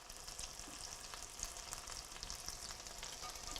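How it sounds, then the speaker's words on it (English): Corn fritters fry in hot oil in a home kitchen, giving a steady, fairly quiet sizzle and crackle with small pops throughout and no talking. "Those are frying up really nicely."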